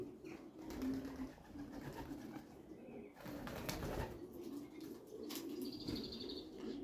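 A loft of young pigeons coos steadily at close range, low throaty calls layered over one another, with occasional chirps and a brief flutter of wings.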